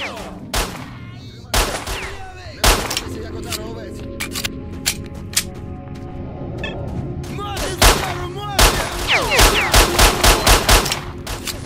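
Loud, scattered gunshots and bursts of automatic fire in S.T.A.L.K.E.R.: Shadow of Chernobyl ring out repeatedly, close and sharp, with a voice talking in between shots.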